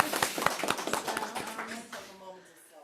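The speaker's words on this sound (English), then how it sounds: "Superintendent's applauding." A superintendent clapping during a budget committee meeting, a quick run of close hand claps that fades out as a voice begins speaking.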